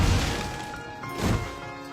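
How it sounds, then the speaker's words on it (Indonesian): Gunshots in a film shootout scene: two sharp, loud cracking impacts about a second apart, each with a brief rumbling tail, with no talking over them. "Seiring suara tembakan"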